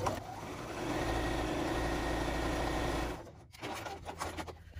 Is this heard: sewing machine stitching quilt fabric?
yes